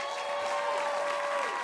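Applause from the audience at the Hollywood Unlocked Impact Awards ceremony, a brief, dense burst of clapping filling the hall.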